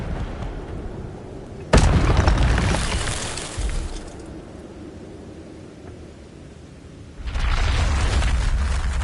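Incendio fire spells blast out in Hogwarts Legacy, two roaring bursts of whooshing flame, the first erupting sharply and fading over a few seconds, the second surging in later, loud and close without speech.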